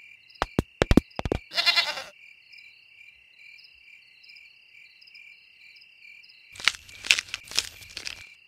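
Quick clicking taps, then a long quiet stretch, and then a bleating goat rising over a steady chirr of insects.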